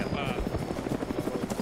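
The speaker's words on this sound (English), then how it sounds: "That's an awfully Russian chopper." A Russian helicopter thunders close by with a steady rapid rotor chop, loud and continuous, while voices talk over it.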